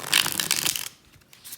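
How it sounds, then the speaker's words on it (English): A Magical Dogs tarot deck is riffle shuffled once, a close, crisp burst of flicking cards lasting under a second, then quiet. "That was a beautiful shuffle."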